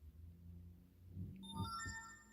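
A phone ringtone or notification chime plays as a short rising sequence of clear bright tones near the end, faint and alone after a quiet low hum.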